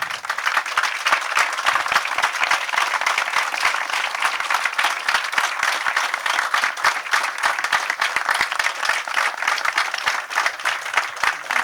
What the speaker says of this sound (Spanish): Este aplauso es para su memoria.